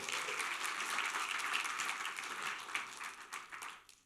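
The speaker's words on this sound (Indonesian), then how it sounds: "Kalau setuju beri tepuk tangan lagi" A church congregation applauds continuously for several seconds, dense clapping that tapers off toward the end.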